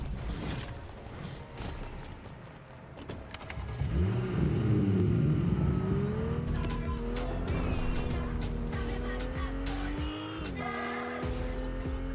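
A car in the video game Fortnite drives and revs, its steady engine drone rising in pitch and holding loud and close for several seconds amid clunks and creaks of the vehicle.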